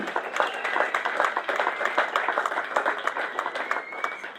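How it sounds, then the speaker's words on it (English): An audience at Smallbrook Stadium on the Isle of Wight claps steadily for a young speedway rider, dense moderate-volume applause sustained throughout with no talk. "So it's a big special round of applause to Charlie Green."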